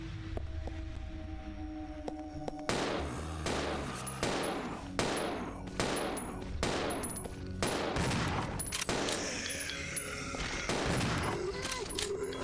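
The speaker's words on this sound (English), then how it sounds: "Just let him do all the shooting." Handgun shots in Resident Evil 0 HD, a run of sharp, evenly spaced bangs firing one after another, loud and close, with occasional game sounds between.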